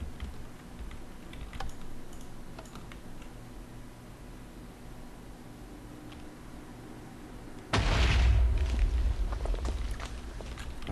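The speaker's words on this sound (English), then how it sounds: "test out ID2, I suppose, which should fire off that TNT right here" A block of TNT goes off in a Minecraft redstone build, a sudden loud burst of explosion noise that starts late and fills the remaining seconds, following quieter clicky keyboard-like ticking.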